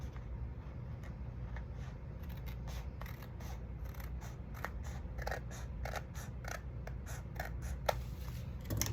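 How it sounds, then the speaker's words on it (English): Scissors trim small bits of paper in repeated short snips, a steady run of close, crisp cuts over a low background hum, with no talking. "Let me go ahead and trim this little bit here before I glue the other one."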